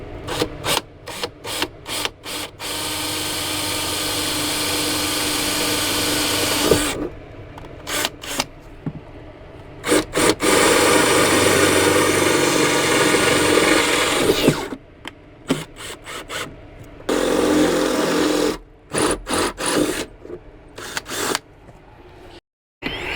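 A power tool drills a hole through a thick piece of van frame, running in long loud grinding bursts broken by short stops and starts, close up with no talking.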